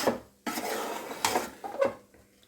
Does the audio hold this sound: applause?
no